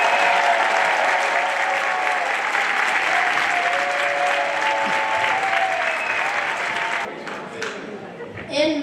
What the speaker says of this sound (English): Let's give a really, really, really big, strong round of applause